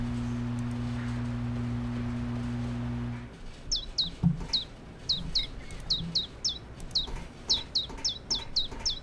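A bird in a video game chirps a quick series of short, bright tweets in clusters, following a steady tonal hum that cuts off abruptly, with soft thuds and rustles beneath.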